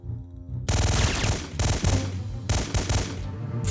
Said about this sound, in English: I'm shooting him, like, right there.